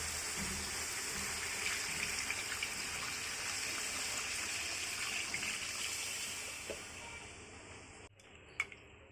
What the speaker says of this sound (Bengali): এখন এতে দিয়ে দিচ্ছি প্রয়োজন মতো পানি